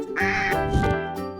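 A duck gives a run of loud, close quacks, nasal and buzzy, in two or three quick bursts with no other sound around them.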